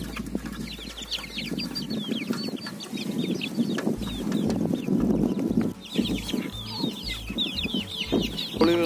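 Hens cluck steadily with sharp chirps and calls layered over a busy yard, the clucking continuous and fairly close throughout.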